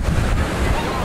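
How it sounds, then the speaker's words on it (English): Surf on a Mediterranean Sea beach along the Cinque Terre coast near Monterosso, a steady low wash of breaking waves mixed with wind rumble on the microphone, close and continuous with no clear pauses. "This is the Mediterranean Sea right here."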